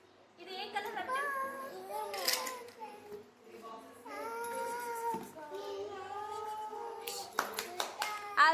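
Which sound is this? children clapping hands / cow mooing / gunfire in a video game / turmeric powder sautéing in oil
children clapping hands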